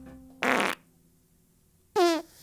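Two short, loud fart sound effects, each lasting about a third of a second, with the second one vibrating and wobbling in pitch. They are separated by near silence.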